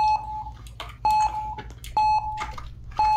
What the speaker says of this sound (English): Auto start alarm, and here we go.